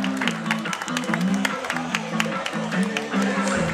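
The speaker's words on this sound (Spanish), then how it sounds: "¡Fuerte el aplauso!" Crowd applause at a Guatemalan sports event, scattered claps heard over a droning, pitched sound and background voices, moderately loud and continuous.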